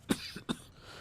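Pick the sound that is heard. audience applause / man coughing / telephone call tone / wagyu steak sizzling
man coughing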